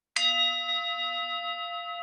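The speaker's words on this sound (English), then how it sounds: "I'm gonna hit the gong" A single gong strike rings out sharply, then leaves a long shimmering sustained tone with steady overtones that slowly fades, alone in a quiet room.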